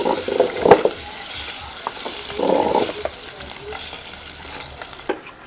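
Mustard-seed tempering with half a spoon of turmeric sizzles and crackles in hot oil in a pan while being stirred for a tomato pachadi, with scraping stir strokes over a steady fry.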